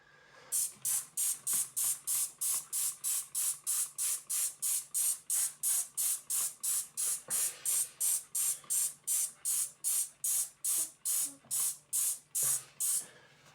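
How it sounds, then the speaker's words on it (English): Rapid, evenly spaced pumps of a spray bottle misting a tomato seed tray, about thirty short misting bursts in a steady rhythm, close and loud, with no talking. "So just give that a spray, just like before."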